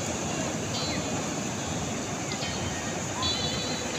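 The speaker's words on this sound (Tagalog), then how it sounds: "Ayan, ay malaki pa yung susunod niya ng alon." Large ocean waves hitting a small outrigger boat stuck at sea, a continuous loud rushing wash of surf and wind noise with no clear breaks, hissing on the microphone.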